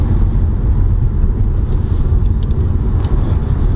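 A 2020 Subaru Levorg GT with a 2.0L engine and CVT gearbox accelerating, heard as a steady, loud low engine and road rumble from inside the cabin with no talk.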